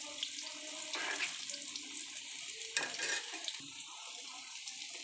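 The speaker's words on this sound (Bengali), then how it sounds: "একদম কড়াভাবে ভেজে নিচ্ছি" Kebabs fry crisply in a pan over a full flame, making a steady, soft sizzle with brief swells of louder crackling and no talk.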